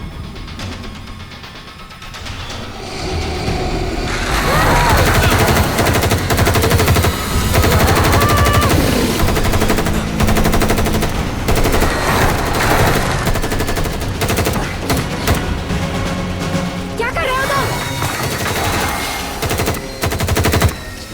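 Loud, sustained rapid gunfire from an action movie, dense automatic bursts and a soundtrack rumble; a voice speaks briefly in Hindi near the start.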